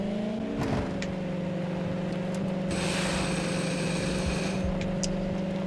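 A virtual car engine in the video game Defiance hums and revs steadily while driving, a continuous droning tone with scraping and rubbing noises layered over it.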